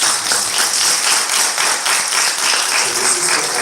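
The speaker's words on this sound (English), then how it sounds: "Let's applaud our panel one more time." Audience applauding a panel at a live arts event, a dense, loud, continuous wash of clapping from many hands that holds steady throughout.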